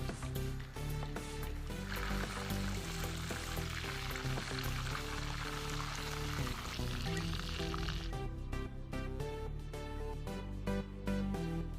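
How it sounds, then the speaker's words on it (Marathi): Fish pieces fry in hot oil, a soft continuous sizzle and bubbling that is fairly faint, with a quieter, more crackly stretch toward the end. "आपले दोन्ही मच्छी तळून रेडी झाली"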